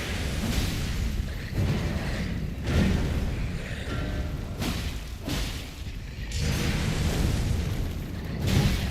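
Explosions and booming impacts in the action game Elden Ring, a run of loud broadband bursts with whooshing swings and thuds recurring every second or two throughout.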